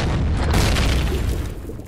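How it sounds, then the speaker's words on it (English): A sci-fi explosion in the space survival game Empyrion rumbles as a loud, sustained boom filling the whole moment before slowly fading out. "That was one hell of an explosion."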